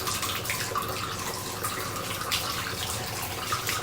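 Hot water pouring steadily from a Moen tub faucet into the tub, a constant close rushing hiss with no break and no voices.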